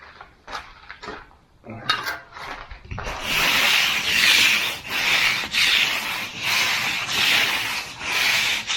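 Concrete slab surface that has firmed up but is not yet hard, rubbed and pressed down by hand to consolidate it: a steady, loud scraping rub in repeated rhythmic strokes after a few short scuffs at the start.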